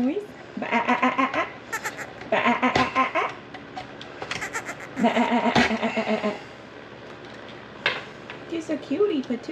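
Baby goat with bent hooves bleating in repeated short, wavering cries, close and loud, interleaved with clattering and a person talking softly nearby.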